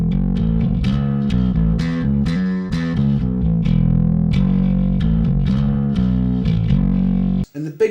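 A heavily distorted bass guitar through a Frudua B600 bass head plays a chunky riff of thick, gritty notes, loud and continuous, ending with a brief pause and a few stray plucks.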